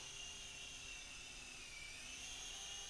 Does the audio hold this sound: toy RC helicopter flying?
yes